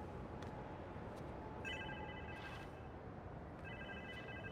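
Repeated electronic phone ring during a call in a Spider-Man video game, two bursts of trilling tones roughly two seconds apart, faint over a low background hum.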